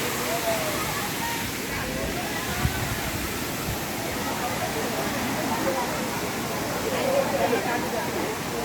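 Savdav waterfall in Sindhudurg, Konkan, pours in a steady, full rush of falling water, broad and unbroken throughout.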